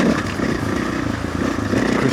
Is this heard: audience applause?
no